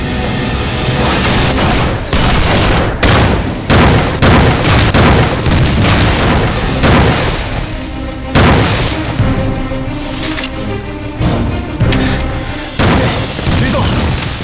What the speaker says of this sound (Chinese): 被人大炮压得抬不起头来